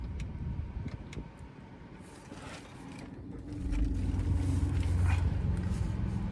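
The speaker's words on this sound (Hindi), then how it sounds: "तो गाइज इंजन को हमने कर लिया है स्टार्ट" A Maruti Dzire Tour S CNG car engine idles just after starting and runs slightly rough, a low steady hum that swells and grows louder partway through, with faint mechanical clicks and no voices.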